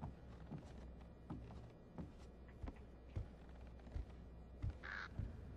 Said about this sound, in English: Be quiet, bird.